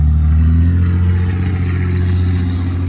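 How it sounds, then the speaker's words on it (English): A loud truck passes close by, its engine a heavy low rumble with droning tones that hold steady and fill the whole stretch, drowning out everything else. "Sorry, that truck was loud."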